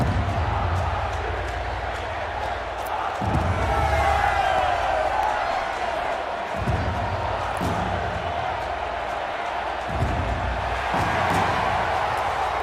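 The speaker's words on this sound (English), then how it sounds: "It's odd to me that they'll be cheering her death, but I guess they're just cheering anything in general." Crowd cheering and shouting in the Horizon Zero Dawn video game, a steady roar of many voices with heavy thumps and bursts rising through it, loud and continuous.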